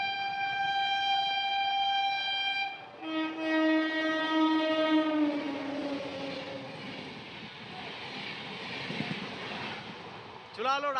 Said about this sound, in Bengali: সামনে দিয়ে এখন ফুল স্পিডে চলে আসছে শ্রমজীবী এক্সপ্রেস